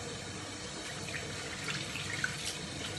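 Warm tap water running steadily into a sink while someone rinses their face, a continuous close splashing flow with occasional small drips and splashes.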